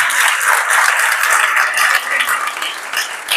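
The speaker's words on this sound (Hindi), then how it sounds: "जोरदार तालियां।" A church congregation applauds loudly, a thick wash of many hands clapping together that stays steady and close for a few seconds.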